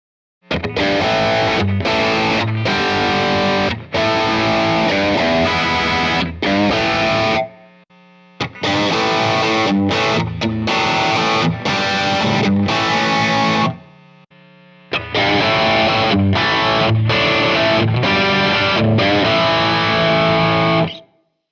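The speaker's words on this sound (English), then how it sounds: "Now let's hear some high gain tones through the three different cabinets." Loud, heavily distorted high-gain electric guitar through a Strymon Iridium amp and cabinet modeler chugs and riffs in three long bursts, separated by short pauses.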